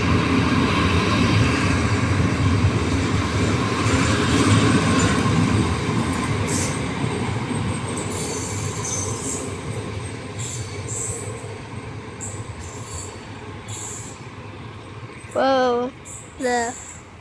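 Regio train R 6403 from Barlad to Iasi pulls into Vaslui station three minutes late, its wheels rumbling loudly and steadily before easing off, with a few brief tonal calls near the end.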